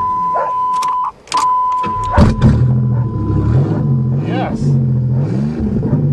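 An old Chevy Celebrity car engine cranks, catches and settles into a steady running rumble, with an electric whine heard earlier and people talking over it throughout.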